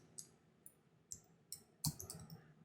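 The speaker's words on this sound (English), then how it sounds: "Then we click on Permanent Redirect." Computer mouse clicks, four faint, sharp clicks spaced irregularly in a quiet room, the last one slightly louder with a short rattle after it.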